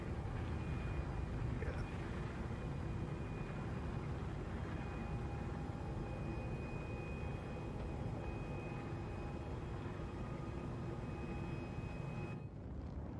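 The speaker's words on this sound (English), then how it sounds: "The engines on the Gladiator have kind of an interesting sound. They've got like a whine." Engine of a Gladiator ship in the Star Citizen video game: a quiet, steady high whine over a constant low drone, holding for about twelve seconds before cutting off.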